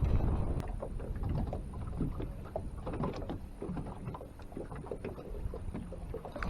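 Wind buffets a microphone on a fishing boat out on the water, a steady rough low rumble with gusty swells and faint knocks throughout, no voices.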